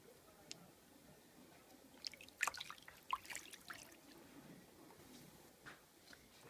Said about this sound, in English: I'm going to rinse my fingernails with lukewarm water